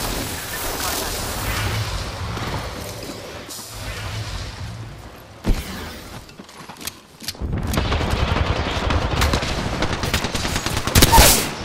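Rapid gunfire from the battle royale shooter Apex Legends rattles in loud bursts, with sustained automatic fire, sharp single shots and impacts, then a short lull before dense firing resumes.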